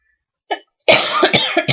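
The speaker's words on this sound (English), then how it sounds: "I've been coughing for several days now." A woman who has been coughing for days lets out a short cough, then a burst of harsher, rapid coughs close to the microphone, all within under two seconds.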